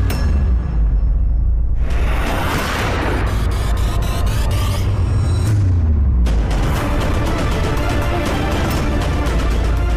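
Loud staged gunfire and blasts in a Bengali TV drama: heavy booming shots and bursts with sharp transients, layered and dense over the whole stretch, very close and dominant with no talking.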